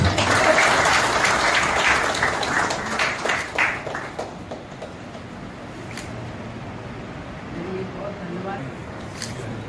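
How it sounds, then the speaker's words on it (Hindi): An audience at a public event applauds loudly for a district administration literacy campaign. Dense clapping fills the first few seconds, then thins and fades, leaving quieter room sound and a few scattered claps. "मैं जोरदार तालियां आप सभी को"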